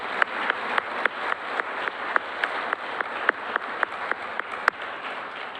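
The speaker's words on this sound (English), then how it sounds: "can we get a round of applause for our gentleman right over here?" Applause at a public talk at a presidential library, a steady stream of clapping with distinct sharp individual claps standing out at a regular rhythm, moderately close and without talk.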